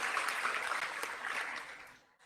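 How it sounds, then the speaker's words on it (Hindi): Audience applause at a live event in Jaipur: a steady crowd clapping that holds briefly, then fades out and stops near the end. "एक बार जोरदार ताली बजा के इनका भी धन्यवाद करना चाहिए।"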